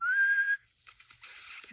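A person whistles one steady, clear sustained note for about half a second, close and loud, followed by soft breathy air noise.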